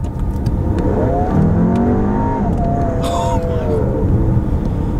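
A Volkswagen Atlas with a 2.0L engine accelerates hard, its engine note climbing in a rising whine and roar heard from inside the cabin, with brief voice sounds over it.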